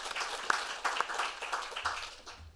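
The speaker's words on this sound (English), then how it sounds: "I want to just give another round of applause there" An audience at a talk at the Roosevelt House gives a round of applause, a fairly quiet, steady wash of clapping with a few louder claps standing out.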